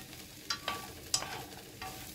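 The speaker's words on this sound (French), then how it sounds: "je préfère bien enrober le tout avec la petite sauce huile d'olive et ail" Noodles and vegetables stir-fried in an olive oil and garlic sauce give a few soft scraping stirs and light sizzling bursts, quiet and intermittent with no talking.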